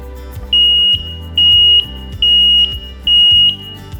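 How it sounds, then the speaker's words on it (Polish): A carbon monoxide detector's piercing alarm beeps in a steady pattern, four long high tones separated by short pauses. "Jak zachowuje się czujka, kiedy wyczuje tlenek węgla? Pokażemy Wam teraz, jaki wydaje dźwięk."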